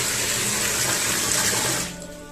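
Water gushes steadily from a household tap in a home, a loud close rush that eases off near the end.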